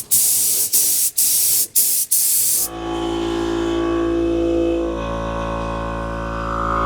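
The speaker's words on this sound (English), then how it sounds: "I'm spraying my first coat by 9." Several short, loud hissing bursts from a spray gun painting a Nissan 240SX trunk, evenly spaced, then a lower steady hum after the spraying stops.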